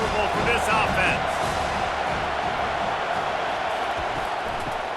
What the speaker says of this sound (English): This crowd trying to make life miserable for this offense.